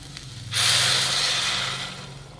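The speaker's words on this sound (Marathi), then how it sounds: "तर त्यामध्ये घालूयात पाणी." Hot water poured from a bowl onto rice in a pot, a loud rushing splash that starts abruptly, holds for over a second and fades away, no voices.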